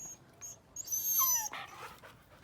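An unkempt, dirty husky dog gives a few high, thin whimpering whines, strongest in the middle, with some soft rustling noise around them.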